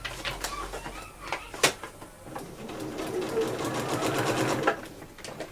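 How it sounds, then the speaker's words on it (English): Sewing machine stitching foundation paper pieces for a pineapple log cabin quilt block, rapid close mechanical stitching with short bursts and small clicks, then a longer steady run of sewing. "Pick it up and sew on the line."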